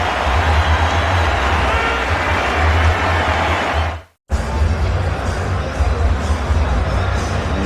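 Loud, dense roar of a basketball arena crowd cheering a Raptors player's reception, steady and broad throughout, briefly cut out near the middle and then resuming at full strength.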